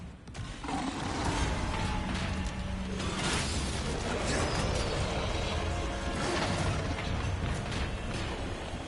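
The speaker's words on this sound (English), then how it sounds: "with power restored, the elevator will start making its way up" An elevator in Resident Evil 4 Remake starts its climb after power is restored: a loud, steady mechanical grinding and rumbling with metallic creaks and clanks, continuous throughout and alone without talk.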